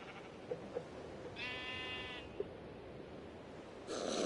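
A sheep in Minecraft Bedrock gives one clear, wavering bleat in the middle, with a few soft clicks before it and a brief burst of noise at the end.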